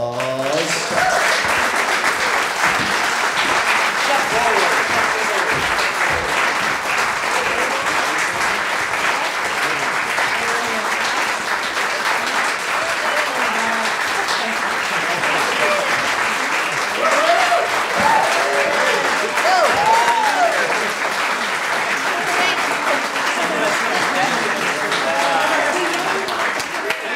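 Sustained applause from a story slam audience, dense steady clapping at a constant level for the whole stretch, with faint voices mixed in.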